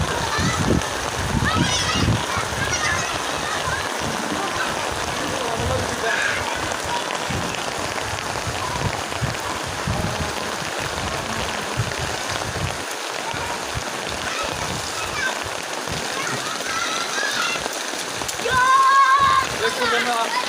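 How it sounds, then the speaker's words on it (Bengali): Heavy monsoon rain pours outdoors at a roadside junction in Gazipur, a dense, steady patter and splash across the whole stretch, with voices talking over it. "আমি এই মুহূর্তে বৃষ্টিতে ভিজতেছি"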